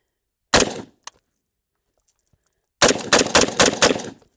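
Rifle shots from an AR-15 or AR-10, close and loud: a single sharp report, a pause, then a fast string of four or five shots in quick succession.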